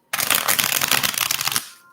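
Tarot cards shuffled close up, a dense riffling rustle lasting about a second and a half that ends abruptly, with nothing else heard.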